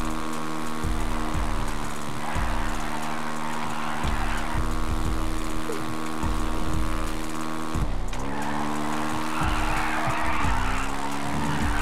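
Car in the video game GTA accelerating hard and skidding: a loud, continuous engine roar with rising revs, tire squeals and a brief dip as the car slides.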